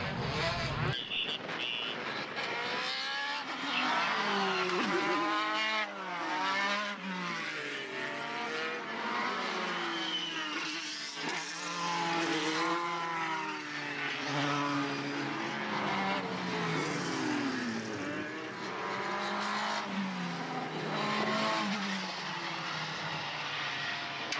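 Formula BOSS race cars circle the Mondello circuit in Ireland, their engines screaming through rising and falling gear changes as several pass in succession, loud and continuous for the whole stretch with occasional tire noise.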